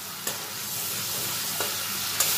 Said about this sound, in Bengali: দিয়ে একটু ফোড়নের সঙ্গে নাড়াচাড়া করে নেব। তেল ছাড়তে শুরু করে দিয়েছে।